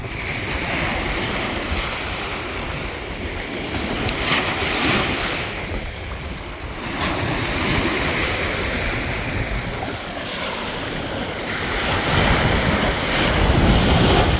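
Lake Michigan waves washing onto the shore, heard close and loud in rolling surges with a constant wash and heavy wind buffeting across the whole span, with no talking.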